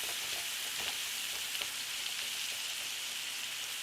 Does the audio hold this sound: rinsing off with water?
no